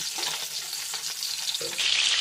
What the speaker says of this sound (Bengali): উল্টে পাল্টে মাছগুলোকে ভালো করে মজমচে করে একদম ভেজে নিচ্ছি